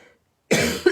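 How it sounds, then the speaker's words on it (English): A close, loud cough from a person at a crafting desk, coming as one harsh burst after a quiet pause and followed by a second short cough near the end. "Sorry, I'm now going to cough."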